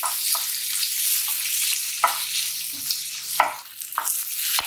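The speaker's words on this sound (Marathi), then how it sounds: "आपण आता इथे एक बारीक चिरलेला टोमॅटो टाकतोय आणि तो पण आपल्याला याच्यावर मिक्स करायचा आहे प्रॉपरली।" Finely chopped tomato and onion frying over a high flame, giving a steady loud sizzle broken by repeated scraping stirs in the pan, with no voices.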